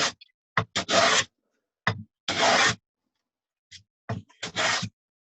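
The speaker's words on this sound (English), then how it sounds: "I can be quite specific about where I'm planing." Hand plane shaving a rough sawn timber board in a series of quick rasping strokes, some short and some longer, close by and separated by silent pauses.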